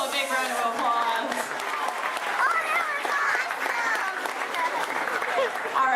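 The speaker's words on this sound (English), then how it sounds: "Everybody give Mitchell a big round of applause." A Disney show audience applauds with sustained, dense clapping and crowd noise that holds steady at a fairly loud level throughout, with voices mixed in.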